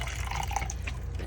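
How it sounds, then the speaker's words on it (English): A paintbrush is rinsed in water, giving soft, quick drips and light splashes close to the microphone over a steady background hum. "Rinse my brush."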